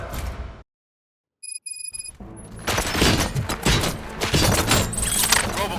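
Gunfire erupts in Robocop: Rogue City, a dense burst of loud shots and booms following a short silence and a few metallic beeps, continuing as a sustained chaotic barrage.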